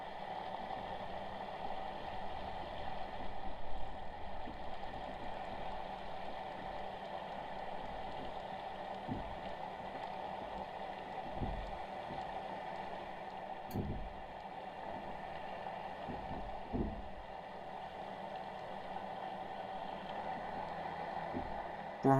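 A boat engine held at 2500 RPM while pulling against an anchor on a 370 pound setting, a steady, even drone that runs unbroken throughout, with a few dull low thumps now and then.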